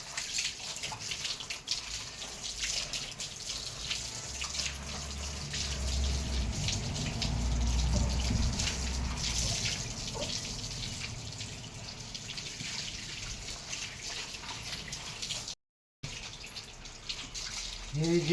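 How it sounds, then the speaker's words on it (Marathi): Water runs and splashes steadily over a dog during a home bath, a continuous gushing pour close by with someone talking over it and a brief dropout near the end. "आपण त्याला पहिले सुरुवातीला पाण्याने आंघोळ घालणार आहोत आपण त्याला"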